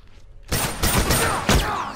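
Rifle gunfire in an online shooter video game, a loud, dense volley of several overlapping cracks and booms that starts abruptly and swells again near the end.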